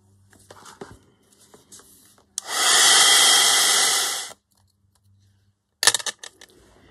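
A hair dryer drying paint on faux metal numbers blows loud and close in one steady burst of about two seconds, with small handling clatter before and after it.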